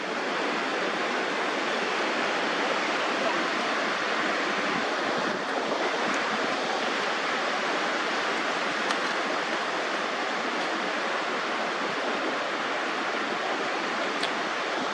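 Ocean surf where people are surfing, a steady broad wash of breaking waves with some wind, continuous and moderately loud with no talk.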